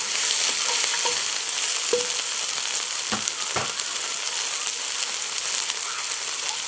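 Onions sear in a hot pan for a Trinidad lamb curry, a loud, continuous sizzle and crackle with a few sharp stirring knocks, and no voices.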